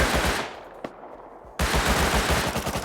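Rapid automatic gunfire in the survival video game Rust, dense bursts of shots that pause briefly around a single shot and then resume in a loud, continuous rattle, with no talk.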